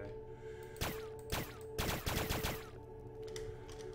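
A poison gun fires in the video game Starbound, a few sharp bursts of rapid crackling shots over a steady humming game background.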